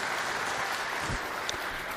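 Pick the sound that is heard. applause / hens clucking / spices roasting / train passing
applause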